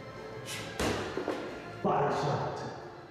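Gloved punches thud into the body during an in-house boxing tournament bout, two or three dull close impacts spaced apart, with voices talking around them.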